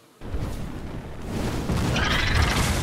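A fire explosion spell goes off in a Hearthstone match, a sudden heavy whoosh and boom after a moment of silence, then a sustained roaring rumble with a bright crackling shimmer. The effect is loud and close, with no speech.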